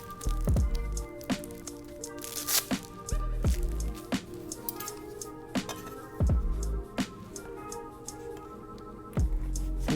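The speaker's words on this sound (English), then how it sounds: "I'm just using our Primeaux chef's knife here to slice these up into some real thin little slices in a julienne cut." A chef's knife slices sticky tamarind pulp candy into thin julienne strips on a cutting board, giving soft, irregular taps and squishy cuts, close and fairly quiet, with no talking.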